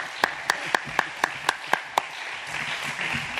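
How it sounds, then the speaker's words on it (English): A handful of sharp, evenly spaced claps from an audience at a voting-rights event, about four per second, then fading into low room murmur. "let's give her a rousing round of applause"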